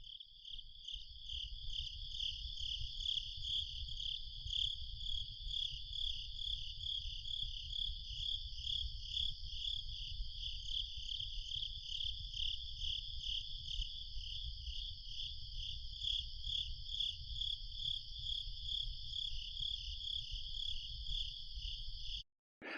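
Crickets chirp together in steady synchrony, forming a continuous high pulsing trill that carries on unbroken and fairly faint over a low background hum, with no talking.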